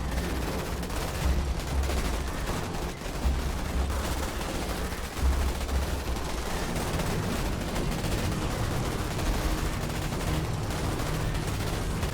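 Gunfire in the video game Starship Troopers: Terran Command, a dense, continuous barrage of many weapons that rattles on steadily at a loud level with no pause.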